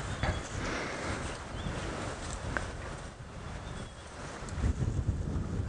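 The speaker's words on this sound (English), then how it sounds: "it's a little bit windy" Wind buffeting a microphone outdoors on a sunset safari drive, a steady rough rumble with gusts that swell louder near the end.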